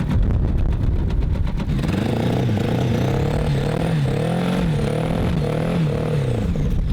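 A Kawasaki GPZ750 Turbo motorcycle engine idles close by, its low rumble wavering up and down in pitch with a faint whistling whine above it.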